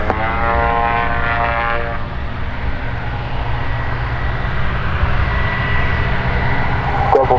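Light propeller airplane on final approach to runway 08 at an airfield with gliders, a steady droning engine hum with a rising tonal whine early on, continuous and fairly close.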